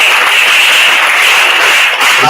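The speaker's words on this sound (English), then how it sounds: "Give them all a huge round of applause" Audience at a school district-level English elocution competition applauding: steady, dense broadband clapping that fills the whole short stretch at even loudness, with no voices over it.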